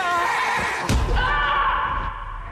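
A horse whinnies once in a scene from The Walking Dead Season 9, a sharp thud followed by a drawn-out neigh, loud and up close over a steady background.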